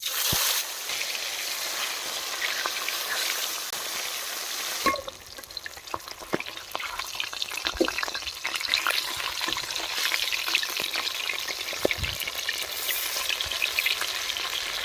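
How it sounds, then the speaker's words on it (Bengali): Loud, crackling sizzle of catla fish dropped into hot mustard oil that settles into a steady fry with scattered pops and spatters; no talking. "তেল গরম হয়ে গেছে এখন মাছগুলো ভেজে নেবো"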